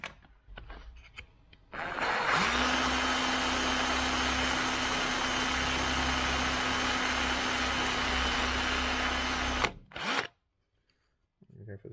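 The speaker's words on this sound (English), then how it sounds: "what I'm going to do is drill" A power drill whirs steadily for several seconds, spinning up, grinding through material with a 4mm bit, then stopping, with faint talk before it starts.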